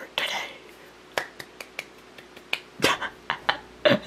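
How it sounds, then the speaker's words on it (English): A few sharp hand claps and snap-like taps in a quiet room, some sparse and separate, with quiet speech-like sounds between them. "Did a little clap if you guys could hear it."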